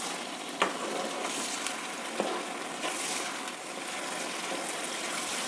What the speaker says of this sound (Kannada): ಹಾಗಾಗಿ ಇದನ್ನು ಚೆನ್ನಾಗಿ ಫ್ರೈ ಮಾಡಬೇಕು. ಈರುಳ್ಳಿ ಬಣ್ಣ ಚೇಂಜ್ ಆಗುತ್ತೆ ಅಲ್ಲಿವರೆಗೂ ಫ್ರೈ ಮಾಡಬೇಕು.